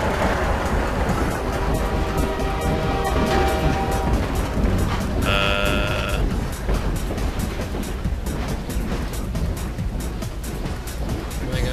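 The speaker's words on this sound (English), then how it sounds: "Oh, that's a train. That's a train." A train passes in the video game Half-Life 2 Episode 2, a loud continuous rumble and clatter with a brief horn-like tone partway through, while a player talks.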